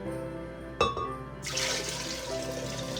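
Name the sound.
ginger beer being poured into a container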